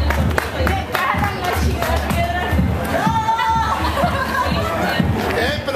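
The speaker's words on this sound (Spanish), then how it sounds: "Ahora sí, un aplauso." Studio audience on a Spanish-language Chicago morning radio show claps, cheers and laughs in a lively jumble, with people talking loudly over the crowd noise.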